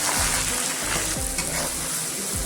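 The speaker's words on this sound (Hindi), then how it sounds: "ये टमाटो ऐड कर देंगे और 2 मिनट में पकाएंगे।" Chopped tomatoes fry in a pan during home cooking of a lettuce sabji, giving a steady close sizzle with occasional stirring scrapes, no voices.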